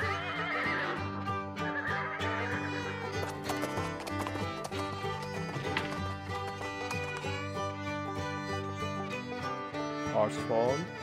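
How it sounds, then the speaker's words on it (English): A horse whinnies over steady background music, with faint clip-clop hoof sounds mixed in; a rising neigh stands out near the end. "Horse foal, both of them are brown in color."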